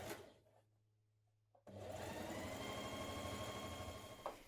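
A domestic sewing machine stitching a blouse seam, starting after a quiet pause and then running in a steady, close, rapid whir with fast needle ticks until the end.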